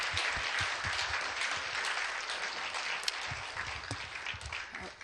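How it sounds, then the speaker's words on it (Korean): A church congregation at a Friday service gives an elder another round of applause, a dense, even wash of many hands clapping together, steady and fairly close for several seconds. "우리 장로님 위해서 한 번 더 박수하겠습니다"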